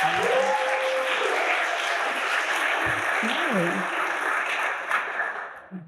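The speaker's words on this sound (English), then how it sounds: "please, round of applause and congratulations" An audience claps at a graduation ceremony, a steady sustained wash of applause with a few voices mixed in, tapering off at the end.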